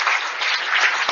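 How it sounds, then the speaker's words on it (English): Sustained applause from an audience following a talk on neurology and human nature, dense and steady clapping at close range with no pauses. "It's a fantastic applause for a fantastic talk."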